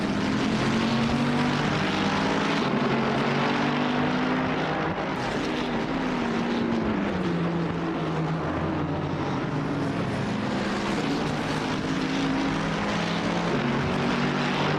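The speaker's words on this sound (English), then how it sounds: "a really beautiful car to hear. With some amazing sounds coming from that engine." A high-revving race car engine in the video game Assetto Corsa Competizione drones steadily with rising and falling pitch, sustained and loud, a GT3 car on track at Oulton Park with no voices over it.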